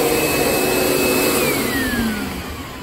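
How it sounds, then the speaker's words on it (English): A Sharp vacuum cleaner fitted with a HEPA cloth bag runs loud and close with a steady whining roar, its pitch sliding downward as the motor begins to wind down near the end. "I can already tell a tone difference in the vacuum"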